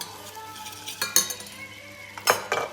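A spoon clinks against a bowl while mixing yogurt soup ingredients, a few sharp metallic taps and scrapes spaced out over a quiet background.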